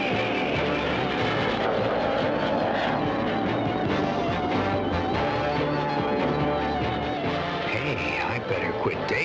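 Robot plane engines in the cartoon Battle of the Planets drone loudly and continuously amid a busy, layered soundtrack with music and occasional voices.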